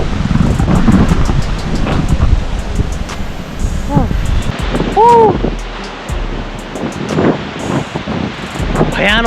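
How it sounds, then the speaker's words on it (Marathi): Strong gusting wind buffets the microphone on Kakolem beach in South Goa, with surf roaring underneath and people talking intermittently over the loud, continuous rumble. "भयान वारं सुटले."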